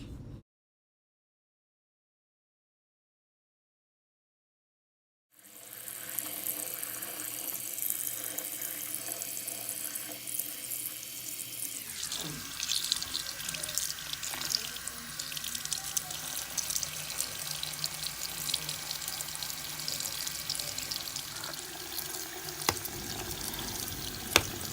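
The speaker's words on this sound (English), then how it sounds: "you just want to rinse it so that there's no soap left in the brush" Tap water runs steadily into a sink while a makeup brush is rinsed of leftover soap, a continuous close splashing stream that starts after a few seconds of silence and shifts tone partway through.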